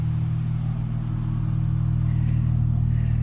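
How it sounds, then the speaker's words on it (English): A 2019 Chrysler 300 Sport AWD with a 3.6 V6, aftermarket intake and performance exhaust drives along, its engine holding a steady low droning rumble from inside the cabin with no talking. "we're gonna go for a ride in my 2019 Chrysler 300"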